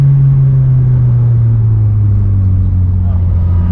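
A 1970 Datsun 240Z with a swapped SR20DET turbo engine drones steadily up close while driving, a low engine tone sliding slightly downward under a constant road rumble.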